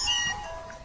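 Meowth's cry from the Pokémon Sun video game, a single short nasal mewing call lasting under a second, clear and fairly loud with no talk over it.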